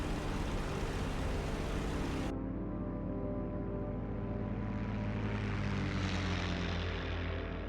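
Steady propeller aircraft engine drone from a fighter in the IL-2 Sturmovik flight sim, running near 2700 RPM and 46 inches manifold pressure, loud and continuous with a deep harmonic hum and rushing wind that shifts after the first two seconds.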